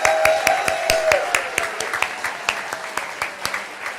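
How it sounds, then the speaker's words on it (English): Applause from a church congregation at a Sunday service welcoming new members, a few hands clapping in a sparse, fairly steady rhythm that thins out toward the end. "Let's give them a big round of applause."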